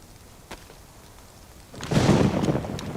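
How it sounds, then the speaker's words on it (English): Rain starts to pour partway through in the video game DayZ on the Livonia map, a broad hiss swelling up after a quiet stretch and staying steady to the end. "Oops, it's raining again"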